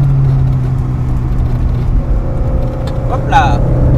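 Alpine Berlinette A110 engine accelerating on the Montlhéry circuit, a steady loud drone with low harmonics throughout and a rising whine near the end, with voices talking over it.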